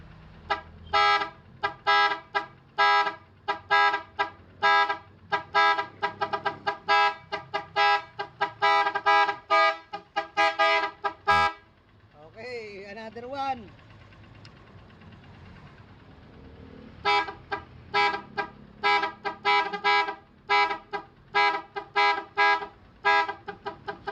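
A car horn fitted with an eight-tone interrupter blares a rapid, repeating multi-tone pattern, loud and close, stops briefly for a wavering tone, then resumes the stuttering sequence.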